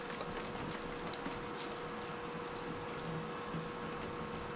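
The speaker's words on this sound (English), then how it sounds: "I'm going to rinse all this off really good" Water streams steadily over a Toyota Prius headlight being rinsed during restoration, a soft continuous hiss and splash with no talking.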